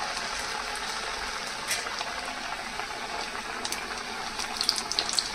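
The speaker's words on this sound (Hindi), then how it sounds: "दो दो कचौरियां हम साथ में तल लेंगे।" Buckwheat flour kachoris frying two at a time in hot oil give a steady, close bubbling sizzle with a few brighter crackles and pops near the end, and no one speaks.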